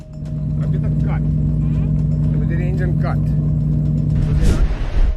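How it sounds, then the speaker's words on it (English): Steady low engine rumble heard from inside an airplane during an engine failure and crash, droning continuously with faint voices underneath and a louder burst near the end. "A crazy video from a passenger as a plane crashes after engine failure"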